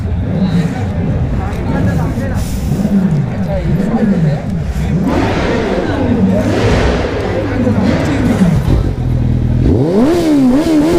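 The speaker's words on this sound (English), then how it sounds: "Oh, someone's revving." An engine revs repeatedly nearby at a college fest auto expo, pitch rising and falling in several sharp pulls, with people talking and street bustle around it.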